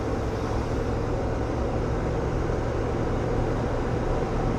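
A 1975 Ford F100 4x4 truck on new shocks driving along, a steady loud engine and road roar from inside the cab with no distinct gear change standing out.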